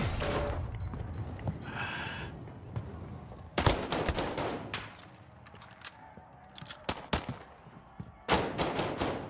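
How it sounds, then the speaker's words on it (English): Bursts of gunfire in Call of Duty Warzone, shots fired into the floor during a gulag fight, come in several sharp loud volleys spread across the clip, with quieter game noise and a brief sigh-like sound between them. "Why was you shooting the floor"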